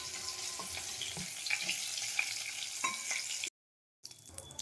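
Whole black cumin seeds sizzle in hot oil for an aloo bhindi dish, making a steady, fairly quiet crackle with faint stirring clicks. The sound cuts out briefly near the end, then the sizzling resumes.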